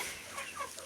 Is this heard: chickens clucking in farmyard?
yes